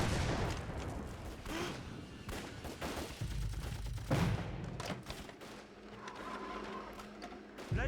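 Heavy gunfire in a battle from an anti-Japanese war action series: dense volleys of rifle and machine-gun shots with heavy thuds, steady and fairly loud with no talk over it.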